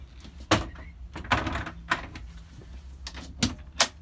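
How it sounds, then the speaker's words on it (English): The bow block-off door on a 2020 Grady-White Freedom 235 boat is worked, giving several sharp, close clicks and thumps spaced irregularly, with quieter latch rattles between them. "you'll see this boat has a bow block off door."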